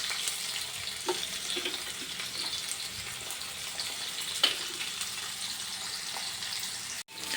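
Onion fries in plenty of hot oil while making kalthappam: a steady, moderately quiet sizzle with occasional light clicks of a spoon and a short dropout near the end.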